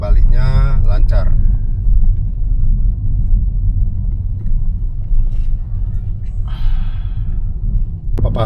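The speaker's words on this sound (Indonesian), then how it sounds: "Papasan dengan bus Juragan 99. Ini dari Malang Jakarta. Ini double decker Juragan" A double-decker coach bus on a long-distance Malang–Jakarta route passes on the Solo–Semarang toll highway in Indonesia, heard as a steady loud road rumble and passing swell from inside a moving car, with speech over it.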